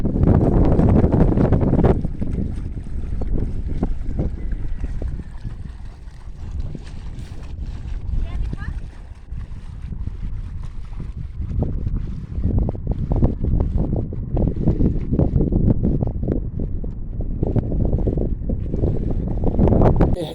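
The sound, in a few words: sailing dinghy under sail in wind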